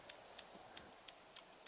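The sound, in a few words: scissors snipping during a haircut in the video game GTA V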